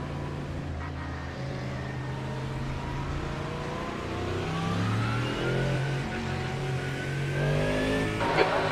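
A GT3 race car engine in a racing video game played on a Fanatec wheel, droning steadily and then climbing in pitch as it accelerates through the gears, loud and continuous with no speech.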